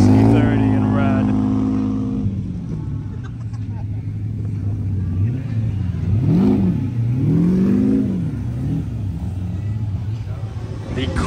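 An SE30 supercar drives past at The Quail during Monterey Car Week, its engine revving in a few rising and falling swells over a steady rumble, fairly close, with people talking nearby.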